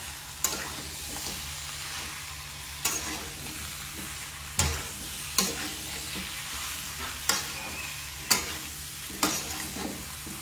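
Chicken curry with cut potato frying in a pan, a constant sizzle broken by regular sharp spatula scrapes and knocks as it is stirred, close and clear with no talking.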